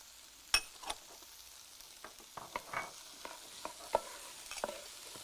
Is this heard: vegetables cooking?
yes